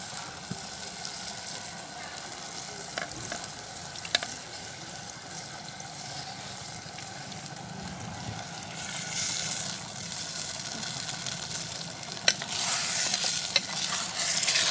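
Mutton biryani masala being stirred in a clay pot: a steady scraping, frying hiss with scattered clicks of the spoon against the pot, continuous and fairly close, growing slightly louder toward the end.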